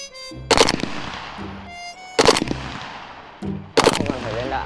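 Rifle shooting practice during military training, three loud, sharp gunshots spaced about a second and a half apart, each with a booming echo trailing off, and brief voices in between.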